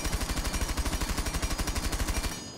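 Rapid automatic gunfire from Tachanka's gun fitted with an extended barrel in Rainbow Six, a fast, even stream of loud close shots lasting about two seconds before cutting off.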